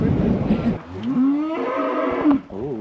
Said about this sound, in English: someone's an angry cow